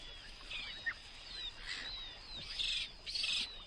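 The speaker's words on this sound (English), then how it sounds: "A duckling." A duckling, offspring of cuckoo ducks, gives a series of thin, high peeping calls, several short chirps with a couple of longer, louder notes near the end, heard fairly close against a quiet background.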